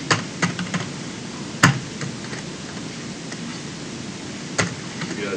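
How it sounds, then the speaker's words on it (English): A computer keyboard that sometimes sticks, tapped in a few sparse, sharp clicks spread over several seconds against a soft, steady background hiss, with no talking. "Yeah, the keyboard sticks sometimes."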